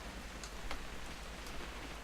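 Rain in the video game What Remains of Edith Finch falls as a soft, steady hiss of drops with a few faint brief taps.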